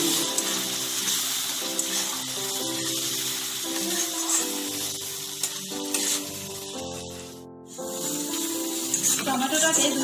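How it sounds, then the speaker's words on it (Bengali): Tomato puree sizzles and fries in a hot pan with ginger and garlic for a paneer masala, a loud continuous hiss throughout with steady background music over it. "টমেটোটাকে 2-3 মিনিট কষিয়ে নিই।"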